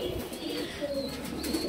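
Pigeons coo in a breeding room, low soft calls close by over a constant hum of background bird noise.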